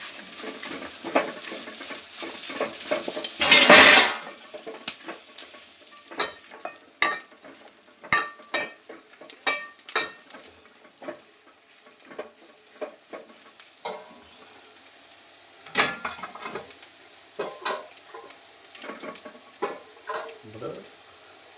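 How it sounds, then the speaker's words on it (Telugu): An egg pakora mixture stirred into frying chillies, capsicum and onions brings a steady sizzle with frequent scraping and clinking of a spoon against the pan, all fairly close. "ఇప్పుడు మనం పకోడాలాగా రెడీ చేసి పెట్టుకున్న ఎగ్ దాంట్లో వేస్తున్నానండి. చక్కగా కలుపుకోవాలండి."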